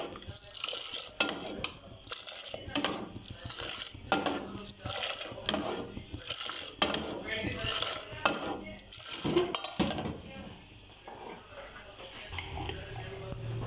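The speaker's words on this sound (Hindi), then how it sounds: "अब इस स्टेज पर हम इसमें इसको इस तरह फेंटेंगे ताकि इसके अंदर भी एयर अब्जॉर्ब हो जाए" Hot milk being whisked hard in a pot to froth it for a homemade cappuccino, with a rapid, uneven clatter of the whisk against metal and a few louder knocks, close and continuous.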